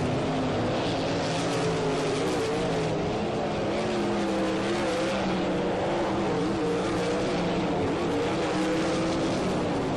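360 winged sprint cars race around Ohsweken Speedway, their engines a loud, continuous roar and whine that rises and falls as the pack circles, with no break across the stretch.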